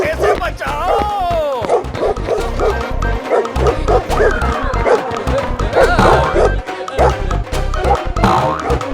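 Cartoon dog barking in rapid bursts, loud and close, with yips and whimpers amid springy boing effects and a frantic, panicked voice talking over the commotion.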